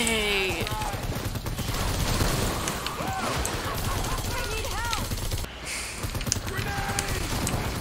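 Rapid gunfire from the Wraith weapon in Fortnite Save the World, a dense continuous stream of fast shots with game effects throughout, loud and steady, with a player talking over it.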